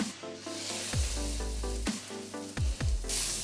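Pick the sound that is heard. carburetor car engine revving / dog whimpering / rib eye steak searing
rib eye steak searing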